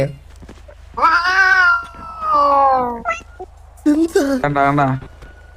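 A cat meows loudly and close by, with several drawn-out, wavering calls in a row, the last ones choppier and more insistent.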